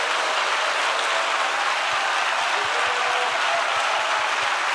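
A church congregation at a Saturday united prayer meeting applauds with continuous, dense clapping that holds steady and fairly loud throughout, with no voices standing out.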